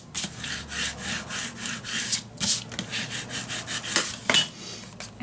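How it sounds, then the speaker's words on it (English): A paper pocket glued down in a mini album is rubbed flat with a burnishing tool, a series of quick dry scraping strokes in an uneven rhythm, close and alone. "Burnish it all down."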